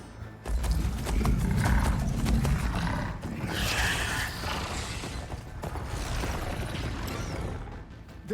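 Robotic machine creatures ridden by Lancers in Horizon Forbidden West charge in with heavy hoof-like clopping, mechanical whirring and growling roars, a loud, dense stampede that stays busy throughout.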